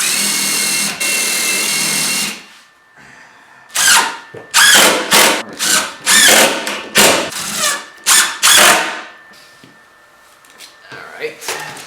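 A power drill fitted with a countersink bit bores into wood while a hutch is built, sounding in a long whir and then a run of short, loud bursts, close up, with occasional voices between them.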